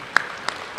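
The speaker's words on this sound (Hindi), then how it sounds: "ताली बजाओ ना।" Three separate claps from an audience at a spiritual gathering, sharp short hits spaced about a third of a second apart, moderately faint with no talk over them.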